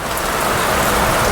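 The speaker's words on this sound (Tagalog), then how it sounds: "bumuhos na po mga kababayan ng malakas" Heavy rain pours down in a steady, loud, unbroken hiss that fills the whole short moment.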